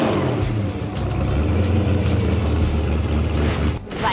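A hot rod V8 with twin 600 CFM carburetors revs at a street rod run, a loud, close, throaty roar that rises and holds before cutting off abruptly near the end.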